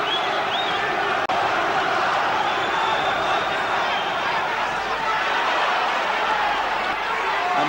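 Boxing arena crowd roaring for heavyweight Frank Bruno during his fight with Bonecrusher Smith, a loud sustained wall of cheers and shouts with no pause.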